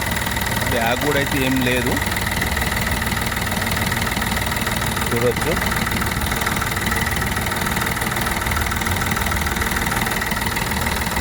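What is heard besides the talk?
used vehicle engine idling smoothly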